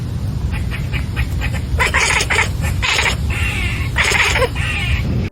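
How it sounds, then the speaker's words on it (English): A cat gives a string of short, bird-like chirps and rolling trills, close and moderately loud over a low background rumble, in several bursts spread across the clip. "Learned in kittenhood, these bird-like utterances are slightly more declarative cat noises than a meow."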